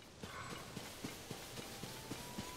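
A horse gallops in Zelda: Tears of the Kingdom, its hooves striking in a steady, evenly spaced clip-clop rhythm, moderately loud over a soft constant game ambience with no talk.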